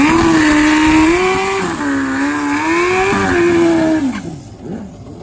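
Hayabusa-engined drag racing motorcycle built on a KZ chassis, its engine note rising and falling in steady, loud harmonic waves, then cutting off sharply near the end.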